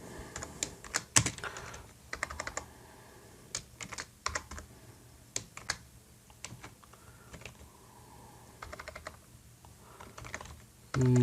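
Bursts of computer keyboard typing come in short irregular runs of clicks with pauses between them, fairly quiet and close, with no voice over them.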